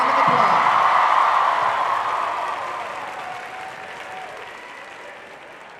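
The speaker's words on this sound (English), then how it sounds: "Let's have a round of applause." A school assembly audience gives a round of applause for students modelling 2023 fashion trends during Wish Week, loud dense clapping at first that gradually tapers off.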